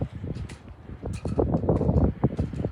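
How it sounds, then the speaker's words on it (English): Gusts of wind buffet an outdoor microphone at the Duluth harbor on a cold day, making an uneven low rumble that swells and drops in irregular bursts throughout. "it is windy, so just hang in there with me if there's issues with the audio"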